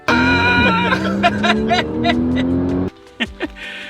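A Porsche Cayman S engine revs loudly up close with rising and falling tones and a sharp gear-like shift, then cuts off abruptly, leaving a couple of short bumps.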